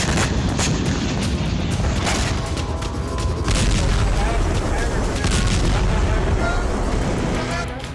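Rocket explosions strike residential areas around Tzur Shalom and Moreshet in Israel. Heavy, loud booms and rumbling blasts come one after another throughout, with a voice talking over them.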